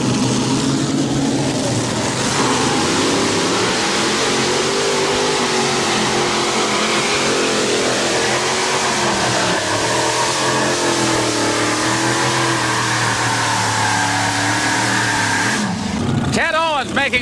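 A 1989 9200 modified tractor pull on a sandy track, with a tractor powered by three Rodeck engines roaring in a sustained, loud drone that swells and pulls down the track, ending in a sharp burst.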